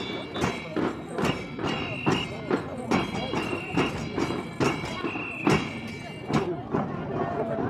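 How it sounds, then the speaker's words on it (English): Horses carrying riders trot along a parade route, their hooves clip-clopping in a steady rhythm of distinct thuds, with a murmur of voices underneath. "Bringing up the rear of the parade, the stars of the day, the horses and their riders."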